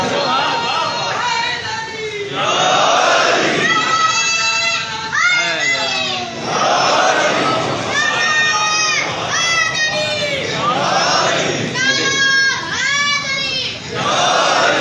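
A large crowd at a religious gathering chants slogans in loud, surging unison bursts of raised voices, rising and falling in repeated waves over about fifteen seconds.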